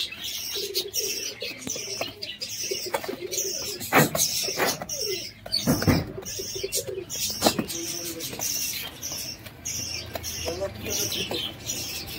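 Pigeons cooing in a loft, repeated soft throaty coos mixed with chirps and wing flutters, including an aggressive full-winged female, near and lively, with some faint background voices.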